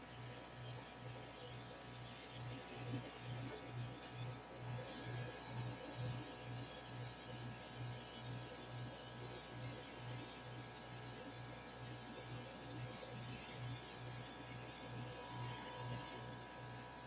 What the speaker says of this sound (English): airbrushing into thicker paint